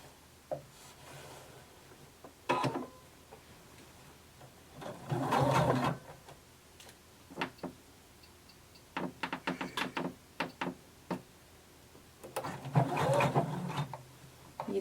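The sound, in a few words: sewing a seam, 5/8 inch seam allowance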